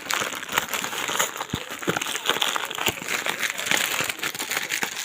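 Close, continuous crinkling of a plastic candy bag being unsealed, rustling and crackling steadily for several seconds with no clear speech.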